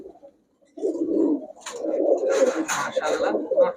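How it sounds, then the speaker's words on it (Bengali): Close, throaty cooing of a male Pakistani jag-gola pigeon in a few rolling phrases, loud and near, after a brief quiet start. "পাকিস্তানি জাগ গলা কবুতর"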